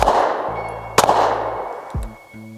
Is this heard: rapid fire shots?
yes